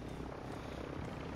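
Helicopter in Call of Duty: Modern Warfare II, a steady low rotor and engine drone holding at an even level throughout.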